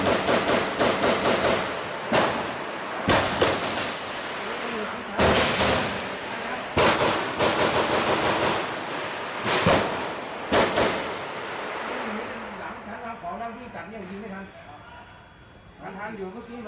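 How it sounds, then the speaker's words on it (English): Repeated sharp gunshot bursts from a group of people firing, heard as loud irregular cracks and volleys through a played recording, spaced a second or two apart, with voices talking underneath and the shots fading toward the end. "So apparently they're all shooting."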